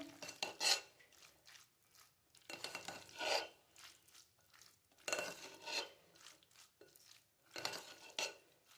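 A spoon scrapes and clinks around a bowl in short repeated bursts, stirring green chili sauce into a pizza filling, close and fairly quiet.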